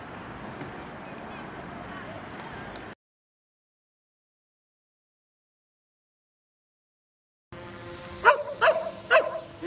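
A dog barks in short bursts during a special operations police drill, after rough background noise and a stretch of silence, the barks loud and close near the end amid surrounding commotion.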